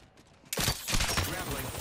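CAR submachine gun fire in a shooter game, a sudden loud rapid burst starting after a quiet half second and continuing to the end, with a voice speaking over the shots.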